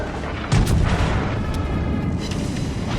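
Sixteen-inch battleship guns fire in World of Warships Legends, a heavy booming salvo with a sharp onset followed by a long rumbling tail.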